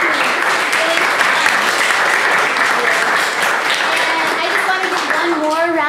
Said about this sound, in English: Round of applause to Manath.